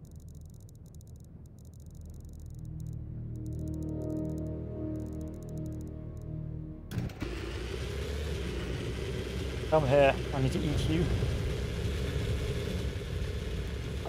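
A tank engine in the video game Sprocket rumbles at idle, then revs and roars louder, with someone talking over it.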